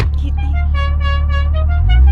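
A car horn on a General Lee car honks in a long sustained blast over steady engine rumble, loud and close.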